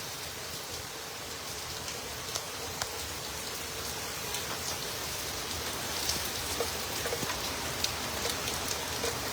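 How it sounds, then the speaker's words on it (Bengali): Heavy, wind-driven rain pours steadily in New York, a dense hiss of drops with occasional louder splatters, continuous and without any voices. "এই মুহূর্তে ভারী বৃষ্টি নেমে গেছে"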